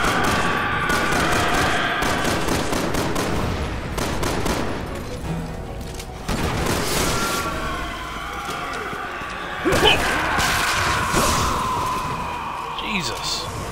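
Gunfire in the Resident Evil 6 video game, with bursts of rapid shots and scattered single cracks over game effects, loud and close, while players talk over the action.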